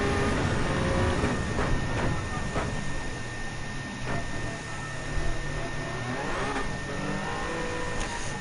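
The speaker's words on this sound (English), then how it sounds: "Just have to keep revving up to go switching into gear 1." Honda Civic engine revving in Gran Turismo 7 during a traffic race, a continuous loud drone that swells and dips as the revs rise, with some speech faintly mixed in.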